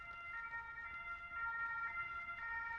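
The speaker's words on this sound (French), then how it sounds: "t'entends sûrement les ambulances" Ambulance sirens passing outside, faint and distant, a steady wailing tone that rises and falls under a quiet room.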